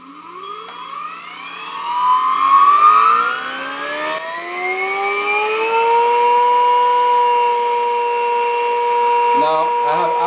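An iron-free high-frequency generator spins up slowly, its layered whine sliding upward in pitch, swelling briefly, then settling into a loud, steady tone near the end.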